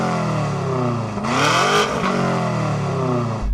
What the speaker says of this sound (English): Let's check out the sound of my weight-saving Akrapovic exhaust